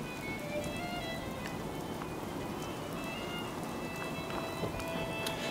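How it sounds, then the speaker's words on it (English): Steady rain falls in Minecraft, a constant hiss of drops spread across the sound with no breaks, fairly soft and even. "it's just raining"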